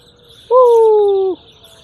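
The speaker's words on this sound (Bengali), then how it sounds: "ওই দেখা যায় পাখিদের কিচিরমিচির আওয়াজ" A single clear, steady whistling bird call holds for just under a second, loud and close, then stops, leaving quiet background.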